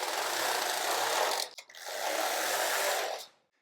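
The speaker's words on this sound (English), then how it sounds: "I'm going to knit 2 rows of circular knitting" A Passap Duomatic 80 knitting machine knitting circular rows makes two loud, steady mechanical whirring passes, split by a short clunk at the turnaround and ending abruptly in silence.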